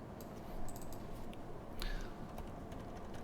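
Computer keyboard typing while entering text in a Machine Learning for Kids project, soft clustered key clicks at close range over a low steady hum, with no talk.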